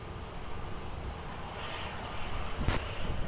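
A jet airliner takes off from runway 20 at Lisbon Airport, its steady broadband engine roar heard from a distance, swelling slightly toward the end with a brief sharp burst near the close.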